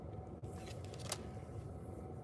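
Tarot cards shuffled by hand, a quiet close riffling and sliding with a brief snap partway through, alone without talk.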